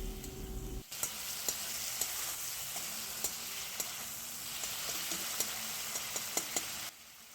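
Tomato with salt and ginger-chili paste sizzles and fries steadily in a pan, with occasional sharp clicks of stirring, starting abruptly after a brief quiet moment and stopping near the end.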